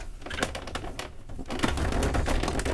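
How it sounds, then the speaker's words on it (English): A typewriter gives a quick run of sharp mechanical clacks and taps, close and moderately loud, in irregular bursts with no speech. "Here is the typewriter itself."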